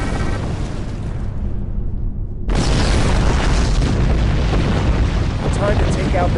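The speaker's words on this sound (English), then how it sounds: "Warning, ship is under attack." Spaceship explosions boom in the Star Trek Online video game as the ship comes under attack. A dense, loud rumble fills the first half, then a sudden burst swells into a continuous roaring blast.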